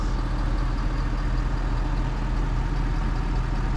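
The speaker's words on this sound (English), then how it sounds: "you can hear the fan running on this truck" A 2020 Ford F250 Lariat 4x4 diesel pickup idles with its cooling fan running, a steady, loud, low engine rumble with a constant whooshing drone and no change throughout.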